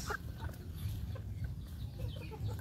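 KUB laying hens, a native Indonesian breed, cluck softly and intermittently close by at morning feeding, several birds murmuring together against a low background hum.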